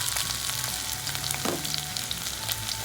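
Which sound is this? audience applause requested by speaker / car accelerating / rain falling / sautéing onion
sautéing onion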